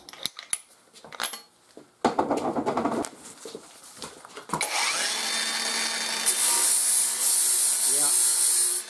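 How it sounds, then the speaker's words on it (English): A flap wheel on a power grinder works a lawn mower deck. Sporadic clanks and short scrapes lead into a loud, continuous hissing grind that runs steadily to the end, close to the listener. "I'm going to try a flap wheel"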